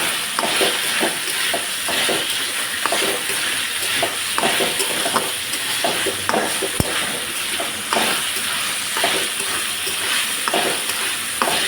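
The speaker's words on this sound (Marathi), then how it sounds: "भाज्या तेलात वापरलं की अंगचं पाणी सुटतं" Vegetables for a sprouted moth bean and pea dish sautéing in oil, with a steady sizzle broken by regular scraping strokes of a spoon stirring the pan.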